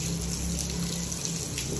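A strong jet of water pours from a high-pressure household tap, a steady rushing hiss that stays close and loud throughout with no break in the flow.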